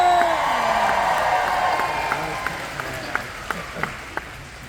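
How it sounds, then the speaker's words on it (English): Graduates at a university convocation in Athabasca cheer and whoop loudly in a large crowd, with sparse claps scattered through the roar as it gradually eases. "let's hear the biggest cheer of all"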